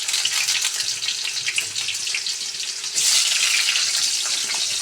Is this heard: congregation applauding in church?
no